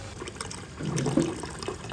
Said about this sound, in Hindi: बर्तन में आप ये ठंडा पानी डाल दें